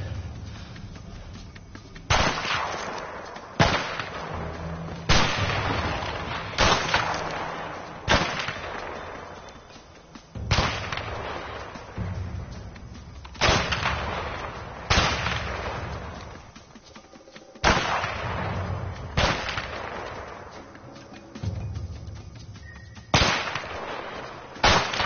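Sniper rifle shots ring out in the A Way Out game, about ten loud, sharp cracks spaced a few seconds apart, each trailing off in a long echoing decay, with no talk.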